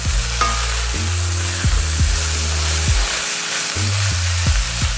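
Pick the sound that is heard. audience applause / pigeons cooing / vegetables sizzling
vegetables sizzling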